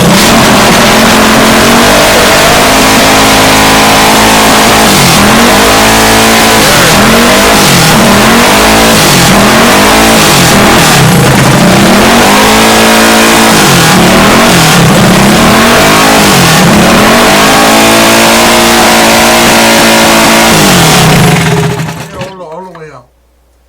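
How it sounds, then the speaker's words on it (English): A minibike engine buzzes loud and close as its carburetor idle is adjusted, the pitch rising and falling in repeated revs before settling lower and cutting off near the end. "We're going to bring the idle down just a little."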